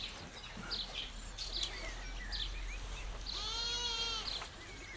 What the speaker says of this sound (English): These are goats now.